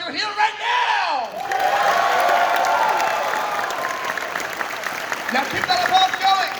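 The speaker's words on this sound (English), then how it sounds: "Now give a round of applause if you're here right now!" At the Midwest Fur Fest 2019 closing ceremony, a shouted prompt gives way to a roaring wave of applause mixed with cheers and whoops from a large hall crowd, easing slightly before renewed yells.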